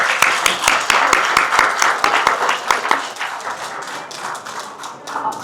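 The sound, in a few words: audience applause at an event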